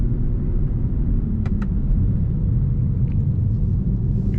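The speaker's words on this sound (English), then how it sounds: "It even has like stock burbles as well, which is pretty cool, interesting." A BMW E92 335is with a DCT gearbox rolls along with a low engine rumble heard from inside the cabin, with a couple of faint pops and crackles from the exhaust burbling over the drone.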